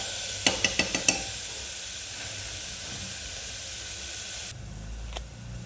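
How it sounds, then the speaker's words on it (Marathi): Onion sautés in hot oil in a pan for a brinjal-potato curry, a steady low hiss and sizzle with a few sharp clicks of a spoon against the pan early on. "कांदा छान परतून घ्यायचा आहे गोल्डन ब्राऊन होईपर्यंत"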